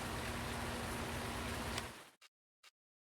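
Steady, dense rain hiss in the farming video game Farming Simulator 19, fairly quiet and even, cutting off abruptly near the end and followed by two brief faint blips of noise.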